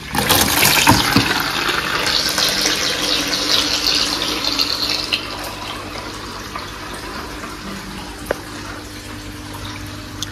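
Water from an Oscar fish aquarium drains through a siphon pipe, gushing strongly at first and then easing into a steadier trickling flow.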